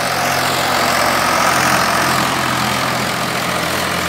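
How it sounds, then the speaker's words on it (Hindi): A Sonalika 745 DI three-cylinder tractor engine idling steadily up close, a loud, continuous low rumble with constant throb and no voices, unchanging over several seconds. "ट्रैक्टर की आवाज़ आपने सुनी ली"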